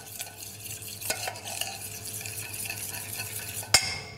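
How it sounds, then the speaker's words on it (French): A spoon stirring a burger sauce finished with sesame oil in a bowl, soft repeated scraping and light clinks at a steady pace, close and quiet, ending with a sharper knock, no talking. "On mélange bien."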